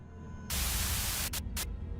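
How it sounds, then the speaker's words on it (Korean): A sudden burst of loud hissing static cuts in over a low hum, briefly dropping out twice before continuing. "A sudden buzz of white noise breaks through the truck silence"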